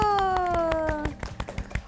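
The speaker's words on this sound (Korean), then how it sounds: "박수." A burst of clapping at the opening of a Korean esports talk show, scattered and uneven, with a few voices and sustained tones under it before the claps thin out into separate hits.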